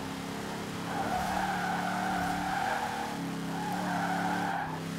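A car on very wide tyres slides through a drift in Forza Horizon 4, its tyres squealing in a sustained, wavering tone over a steady engine drone, loud and close, swelling twice as the slide continues.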